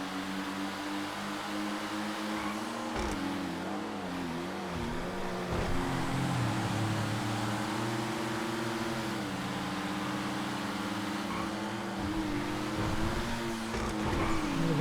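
Race cars in GTA FiveM drone along with steady, near engine tones that rise and dip in pitch as they shift and change speed, a continuous buzzing hum from start to finish.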